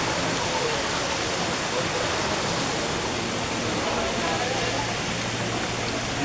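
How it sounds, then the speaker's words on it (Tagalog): A mini waterfall at a river rushes in a constant dense roar of falling water, close and loud, steady for the whole stretch. "Yan, mini waterfall."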